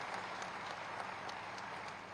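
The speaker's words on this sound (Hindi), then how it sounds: "यशस्वी माननीय मुख्यमंत्री जी को एक बार जोरदार तालियों के साथ स्वागत करते हैं" Applause welcoming the chief minister at a Smart City development projects ceremony, a brief, steady, faint wash of clapping from a distant audience.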